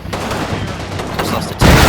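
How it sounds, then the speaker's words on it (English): Gunfire in the World War II tactics game Combat Mission Normandy, a steady rattle of dense shots under low rumble, swelling louder and heavier in the final moments. "They started taking fire with a look before they even rounded the corner."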